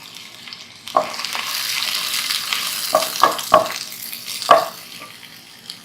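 Sliced onion and capsicum sizzle steadily in a hot pan, with a few sharp stirring clacks from a spatula scattered through the continuous frying hiss.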